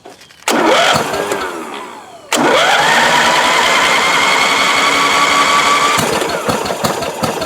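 A 1993 Craftsman LT4000 lawn tractor engine, restarted after four years unused, cranks briefly and catches, then a second start brings it to a loud, steady idle with a rising whine that settles, all close up.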